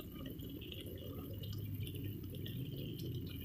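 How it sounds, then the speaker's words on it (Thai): Coconut filling for a Thai coconut sweet simmering and bubbling in a pan, a steady close wet bubbling and popping texture with faint dripping sounds throughout, no talking. "มันก็จะเดือดอย่างเงี้ยนะคะ"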